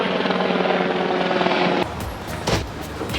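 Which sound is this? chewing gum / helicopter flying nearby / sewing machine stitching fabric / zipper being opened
helicopter flying nearby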